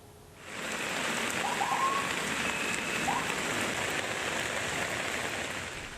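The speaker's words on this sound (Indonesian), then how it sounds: "Hujan deras disertai angin kencang" Heavy rain driven by strong wind pours down in Jakarta, a dense, steady hiss of drops on surfaces that swells in and holds without a break, with no voices.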